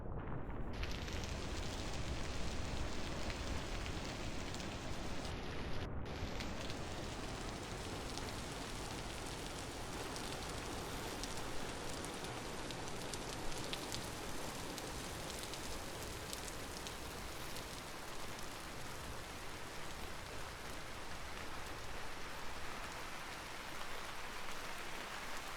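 Steady rain falls on leaves outdoors, a dense, continuous hiss and patter that stays even throughout, heard alone without voices.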